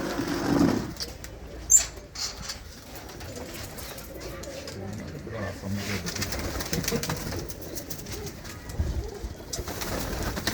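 Pigeons in a loft coo softly and repeatedly, with occasional brief wing flaps and a sharper bird call, while people talk faintly in the background.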